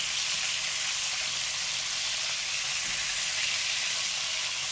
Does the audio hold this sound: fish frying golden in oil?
yes